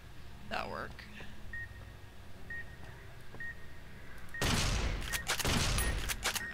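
Gunfire breaks out in Fallout New Vegas Dead Money, a loud dense burst in the last two seconds, after quiet stretches with repeated soft electronic beeps and a brief murmur of voice.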